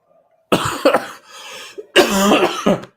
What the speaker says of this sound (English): Sorry, my cough hasn't quite gone away.